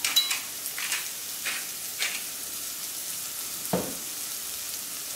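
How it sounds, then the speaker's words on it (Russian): Zucchini frying in a pan, with a steady soft sizzle and several short bursts of stirring or scraping, plus a faint clink near the end; no one talks. "Кабачки у нас уже хорошо прожарились."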